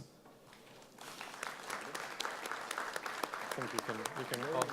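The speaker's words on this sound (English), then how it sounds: "Big round of applause, please." An audience applauds as panel experts join the stage at a blockchain marketing event, the clapping starting thin and swelling louder, with voices and someone speaking over it near the end.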